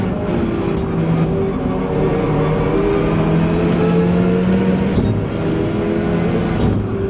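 A Subaru BRZ race car's engine in Gran Turismo 7 during an endurance race at the Nürburgring, a loud, steady roar with shifting revs that never lets up, alone and without talk.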